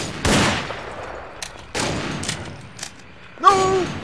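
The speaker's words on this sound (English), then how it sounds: "what are you shooting at me, dude?" Three sharp gunshot bursts from a Half-Life 2 weapon in Garry's Mod ring out about a second and a half apart. Each is loud and close with a short decaying tail, and the last one carries a brief tonal ring.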